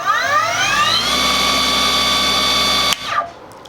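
A LeFeet electric scooter motor in rocket mode gives a high whine that climbs steeply in pitch, holds a loud steady tone, then abruptly cuts off and winds down.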